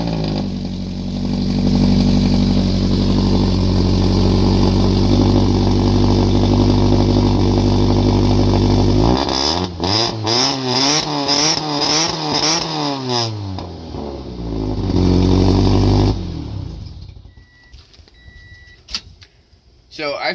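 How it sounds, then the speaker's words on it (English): A car with freshly repaired exhaust headers fires up: a loud steady idle, then repeated rising and falling revs, settling back before cutting to quieter clicks and ambient noise. "We're going to fire the car up and see if she runs."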